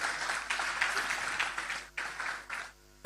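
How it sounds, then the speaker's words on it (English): Audience applause at a business summit in Nigeria, a dense wash of clapping hands lasting about three seconds, fairly loud and steady before thinning out and breaking off near the end. "Please, can we give him another round of applause?"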